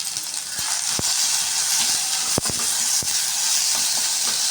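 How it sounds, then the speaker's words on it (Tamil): Onion and tomato sauté in an oil-filled pan for a roasted-gram onion chutney: a steady, loud sizzling hiss with a few sharp scraping clicks of stirring, and no voices. "தக்காளியும் லைட்டாக நல்லா வதங்கிடுச்சு"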